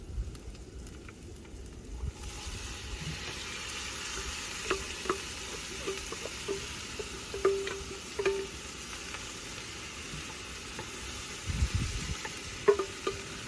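Basil, broccoli, capsicum and tomatoes cook in a pan, giving a steady sizzle and soft frying hiss with occasional light stirring clicks and scrapes, moderately close and without talk.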